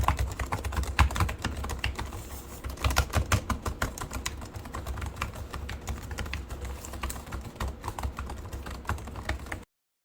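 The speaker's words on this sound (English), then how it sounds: "Keyboard tests. We're going to do keyboard." Rapid typing on an Alienware m15 R4 laptop keyboard, close and steady, with clustered bursts of key clicks running continuously for about ten seconds, no voices.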